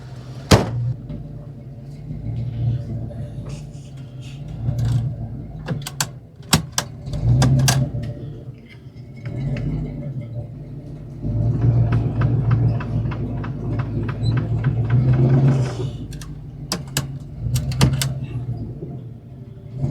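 A Ford Fox Body Mustang creeps back toward a garage through snow, its engine throbbing low and steady with uneven surges, punctuated by sharp clunks and knocks.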